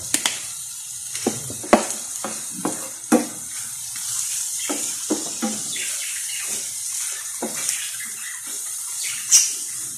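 Already-cooked meat browning in a pan for shawarma rice: a steady close sizzle with scattered pops and stirring scrapes running throughout.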